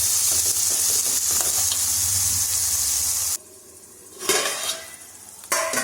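Gongura leaves frying in oil in a pan give a dense, steady sizzle and hiss for about three seconds, then drop to a quieter simmer broken by a few stirring scrapes and a brief louder burst.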